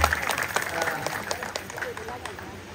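An audience at a village kirtan celebration claps in a fast burst of dense, fairly close applause that thins out toward the end, with a voice speaking over it.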